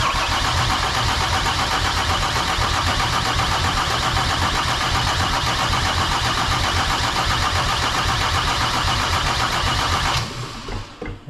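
A Mercedes OM606 diesel in a C10 truck cranks loud and close for around ten seconds in a steady, even churn, then cuts off abruptly, leaving a brief quieter tail.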